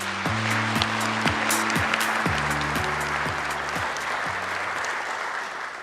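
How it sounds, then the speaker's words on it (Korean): Steady applause from an audience at a government policy briefing fills the room, dense clapping holding at an even level throughout before easing slightly at the end. "큰 박수 부탁드리겠습니다"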